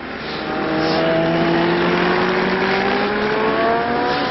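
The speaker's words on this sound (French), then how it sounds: "C'est actuellement la moto 45, la Honda de Wolfgang Gierden Auguin que nous suivons." Honda motorcycle number 45 races past at speed, its engine note climbing steadily in a loud, continuous whine over the whole stretch, with no talk.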